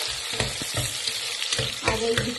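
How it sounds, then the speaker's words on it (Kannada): Onions fry in hot oil for a soya vegetable palav, a dense continuous sizzle with repeated stirring scrapes and spoon knocks against the pan, close and fairly loud, with no voices. "ಈರುಳ್ಳಿ ಸ್ವಲ್ಪ ಫ್ರೈ ಆಗಲಿ, ಲೈಟ್ ಗೋಲ್ಡನ್ ಬ್ರೌನ್ ಬರೋವರೆಗೂ ಫ್ರೈ ಮಾಡಿ"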